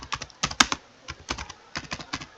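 Keys clatter on a computer keyboard as a label name is typed, a quick run of close, crisp clicks in irregular bursts with short pauses and no voice over them.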